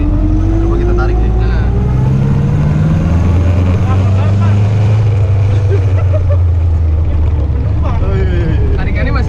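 A restored Willys M38A1 jeep's engine pulls and revs as it accelerates, a loud, steady low rumble that rises in pitch. Voices talk over it throughout.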